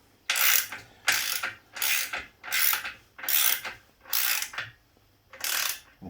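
A power tool set to low power tightens trailer suspension bolts in seven even bursts of loud rapid ratcheting, each about half a second long with short pauses between.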